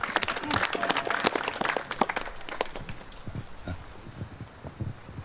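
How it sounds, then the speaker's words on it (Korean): Audience applause at a Korean labor memorial gathering just ahead of a memorial song, a dense patter of clapping that thins and fades over the final seconds. "힘찬 박수 부탁드리겠습니다"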